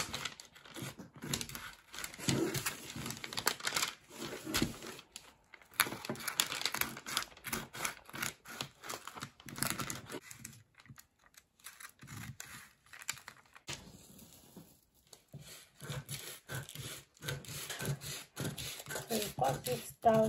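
Paper crinkles and rustles under scissors while a bustier pattern is cut down toward the hem, with irregular snipping and handling noises, fairly close and steady throughout, with some speech in places.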